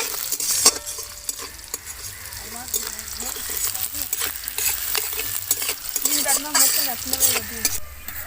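Onions frying in oil with dried red chili, nigella and radhuni spices, a steady sizzle with utensil scrapes and stirring, under intermittent talk and background noise.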